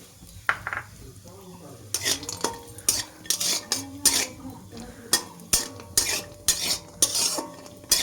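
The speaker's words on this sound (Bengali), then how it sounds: "এখন আমি কাজুগুলো ভেজে নেব।" Cashews frying in a little hot white oil in a wok, stirred with repeated rhythmic scraping and clinking strokes of a utensil over a soft sizzle, close and fairly quiet.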